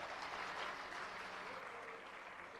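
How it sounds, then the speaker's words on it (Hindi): Warm applause welcoming the speaker at a Delhi government school building inauguration ceremony, a dense round of clapping from a large audience held steady for a couple of seconds before easing slightly. "आइए जोरदार तालियों से सर का स्वागत करें।"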